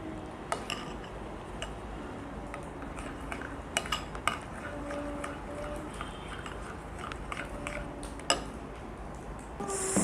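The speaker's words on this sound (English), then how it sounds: "Mix all these ingredients well." A spoon clinks and scrapes in a bowl as baking soda and other remedy ingredients are stirred together, with irregular light taps and rattles, close by and fairly quiet.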